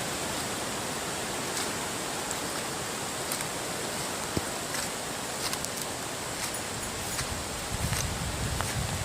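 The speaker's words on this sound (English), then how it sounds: "this is a little creek" A small creek runs high during Hurricane Matthew, making a steady, dense rushing roar that stays unbroken from start to finish, with only faint scattered knocks and rustles on top.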